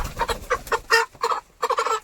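A rooster being caught by hand lets out a quick run of loud, close clucks in short bursts, pausing briefly between them with no talk.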